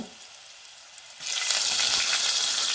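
Garlic frying in oil sizzles softly, then bursts into a loud, hissing sizzle as asafoetida and curry leaves hit the hot oil close by.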